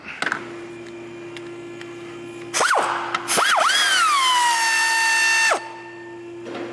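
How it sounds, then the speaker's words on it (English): An air ratchet on an extension works a 13mm nut off a 2011-2017 Dodge Grand Caravan 3.6L engine, with a steady compressor hum and two rising pneumatic whines, the second held for a couple of seconds, close up. "Extension, air ratchet."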